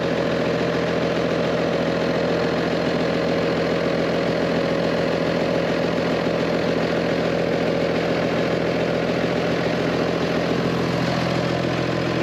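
An old diesel machine with a working injection pump runs steadily after the throttle is raised, giving a loud, even, droning hum with a constant low rumble and no pauses, and no voices.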